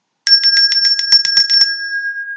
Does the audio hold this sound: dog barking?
no